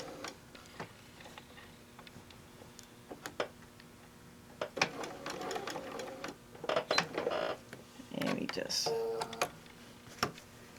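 A Bernina sewing machine stitches fabric with a quarter-inch piecing foot, giving short bursts of rapid mechanical whirring and ticking between pauses, with a person talking over parts of it.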